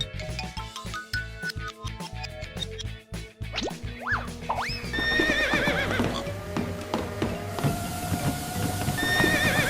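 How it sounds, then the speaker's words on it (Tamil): Horse on a treadmill at a home farm, with clip-clop hoofbeats and thumps in the first half, then several loud whinnies and neighs close by over a steady mechanical rumble. "குதிரையை ட்ரெட்மில்லில் வச்சாயா?"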